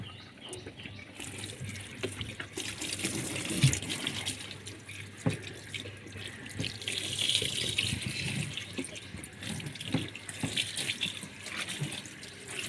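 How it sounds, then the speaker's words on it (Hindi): Water pouring steadily into a semi-automatic washing machine tub, a continuous rushing splash with a few faint knocks, no voices. "इसको कपड़ों के ऊपर से उतारने के लिए हम एक दफ़ा ज़रा सा पानी और लगा लेते हैं"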